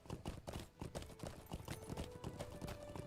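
Horse hooves clip-clop steadily in Lord of the Rings Online as a mount trots along, a rhythmic run of close, moderately loud hoofbeats with faint game ambience underneath.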